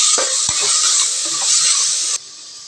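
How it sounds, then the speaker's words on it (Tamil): Tomatoes and onions sizzle loudly in a hot pan while a utensil stirs and scrapes them, then the sound cuts off abruptly. "சேர்த்து நல்லா வதங்கட்டும்"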